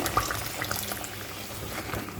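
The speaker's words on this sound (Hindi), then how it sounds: "अब इसमें मैं डाल दूँगी हाफ़ गिलास पानी।" Half a glass of water is poured into a handi of chicken makhni after yogurt has been fried in it, a continuous splashing, hissing rush of liquid hitting the hot pot, steady and close.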